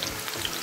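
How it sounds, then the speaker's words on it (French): Onions fry briefly in hot oil in a pan with a soft, even sizzle, faint and without any voices. "je fais revenir les oignons rapidement"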